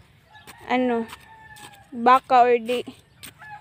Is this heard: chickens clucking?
yes